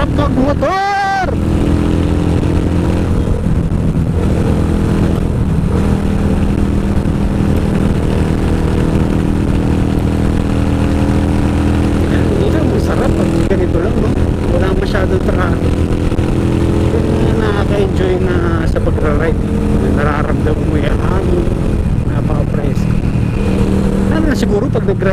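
A motorcycle being ridden on provincial roads, its engine humming steadily close by with rising and falling revs, while a rider talks over it for much of the ride.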